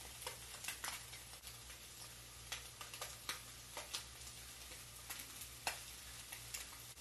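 Chipotle sauce is stirred into a crappie fish mixture, giving a soft steady wet rustle with many quick ticking scrapes of the utensil against the bowl, close and fairly quiet, with no talking.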